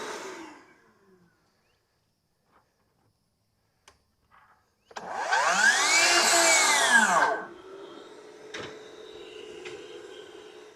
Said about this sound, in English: We have the flex vacuum right here.